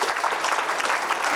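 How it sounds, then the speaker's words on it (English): Audience applause at a housing finance summit in Prague: a dense, steady wash of many hands clapping, loud and even throughout with no pauses. "Before you leave the stage, please applause"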